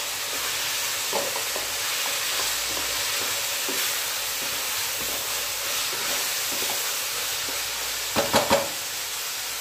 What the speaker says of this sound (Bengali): সব সবজি ভালোভাবে ভাজা হোক, আমি একটু ঢাকা দিলাম।